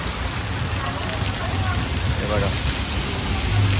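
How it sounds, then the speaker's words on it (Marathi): Steady heavy rain pours down in a dense, constant hiss, while a voice briefly speaks over it. "पाऊस बघा किती जोर जोरात चालू झाला"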